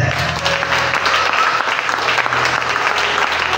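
A church congregation claps steadily and loudly throughout, a dense wash of applause with faint crowd murmur beneath and no pause.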